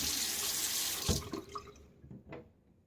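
Tap water runs steadily for a final rinse after a shave with a Gillette safety razor, then cuts off, leaving a few splashes and drips in a quiet bathroom sink.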